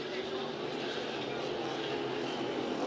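A racing boat engine roars steadily through a race at Valleyfield, a loud, unbroken drone with no gaps, while a voice seems to carry faintly over it.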